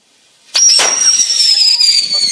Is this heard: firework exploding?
yes